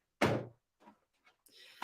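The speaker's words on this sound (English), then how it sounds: "there is a door at the back of the mixer to attach the blender" A small hatch on the back of a kitchen stand mixer is worked open, giving a sharp close thunk followed by a few faint plastic clicks and a scrape.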